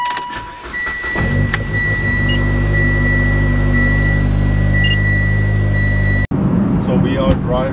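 A car parked before a trip to a time-attack track event cranks and fires up, then settles into a steady, loud idle with a faint electric whine above it. The engine sound cuts off abruptly near the end.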